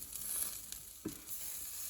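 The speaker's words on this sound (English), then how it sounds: "You could either use lard or margarine in your frying pan." Potato floddies fry in a pan of lard or margarine, a quiet steady sizzle with a faint crackle, no talking.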